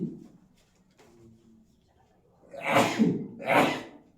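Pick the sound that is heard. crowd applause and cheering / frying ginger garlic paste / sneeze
sneeze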